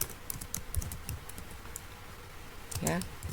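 Fingers type on a computer keyboard while entering names into a Microsoft Word table, a soft run of quick, irregular key clicks at close range, with a brief voice toward the end.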